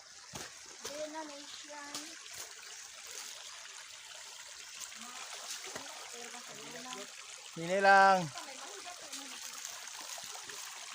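Water rushes steadily along the Palabanahaw Falls hiking trail in Calatrava, Negros Occidental. The constant flow carries on under intermittent voices, including a child's, with a louder voice breaking through near the end.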